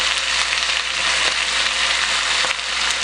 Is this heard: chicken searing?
yes